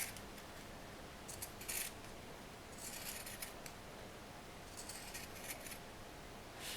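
Pinking shears snip through the fabric of a sewn sleeve seam near the stitch line, several close, crisp crunching cuts in short clusters over a faint steady hiss.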